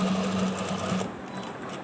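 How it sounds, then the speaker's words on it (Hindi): Sewing machine running steadily as it stitches along the edge of a shirt cuff, a close, even mechanical hum that cuts off about halfway through, leaving quieter room tone. "किनारे की सिलाई लगानी है।"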